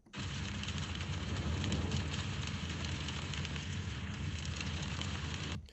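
An AI-generated sound of a large house fire roars and crackles steadily, a dense, loud rushing noise that holds without pause for several seconds.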